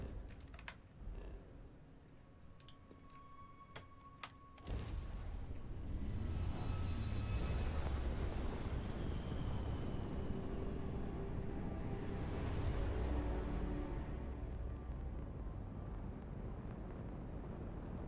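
A spaceship takeoff sequence in Starfield opens with faint clicks, then a loud, steady engine roar surges in and holds, with rising tonal whines layered over the low thrust.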